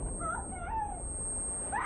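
A cat meows in a movie trailer, a few soft wavering mewing cries that sit faintly under background sound with no clear talk.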